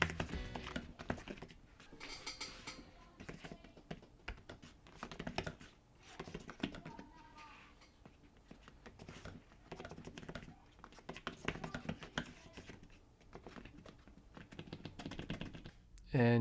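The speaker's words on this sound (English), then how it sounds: "we're just going to take a look at the keyboard and hear some clicky clickies" Keys clicking on an iPad Pro 2020 keyboard, quick irregular bursts of close clicky taps with brief pauses between runs, and a voice talking faintly in the background.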